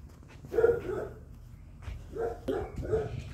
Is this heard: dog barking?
yes